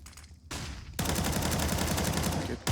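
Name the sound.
gunfire in the video game Rainbow Six Siege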